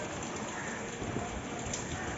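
Torrential rain pouring outside, an even, unbroken wash of drops hitting surfaces, fairly faint but constant throughout, with no speech.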